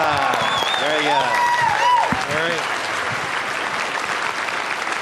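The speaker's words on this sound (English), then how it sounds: "Give him a big round of applause." Audience applause at a live seminar-style talk, steady clapping rising then holding as a dense wash, with a voice speaking over the opening seconds before the clapping carries on alone and slightly fades.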